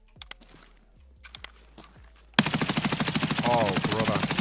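An M4 rifle fires from a crouched position in Escape from Tarkov: a few sharp single shots and short groups come first, then a long loud sustained automatic burst takes over, with a voice briefly underneath.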